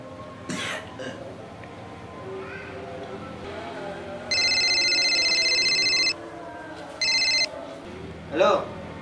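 A phone rings with two electronic bursts, one long and one shorter, cutting in over a household scene of someone ill, with coughs and background talk around it.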